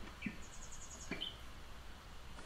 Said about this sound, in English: Enjoy the bird sounds.